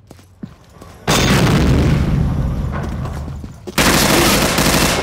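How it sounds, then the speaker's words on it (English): Grenade blasts in the online shooter Combat Arms, two loud booming explosions, the first at about one second with a long rumbling tail and a second sharp burst near the end, mixed with game gunfire. "Grenade!"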